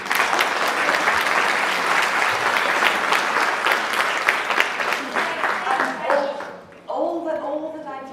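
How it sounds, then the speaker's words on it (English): An audience at an educational conference on creative thinking and inquiry-based learning applauds loudly and steadily for about six seconds; the clapping then fades and a voice begins speaking. "I think you should give yourselves a round of applause for that."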